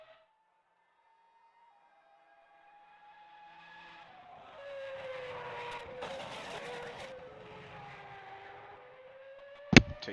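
A race car engine in a San Marino Grand Prix racing video game runs through a lap, whining quietly at first and then growing louder as it revs, with a sharp click near the end.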